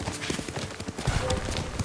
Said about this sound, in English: God, I love this horse.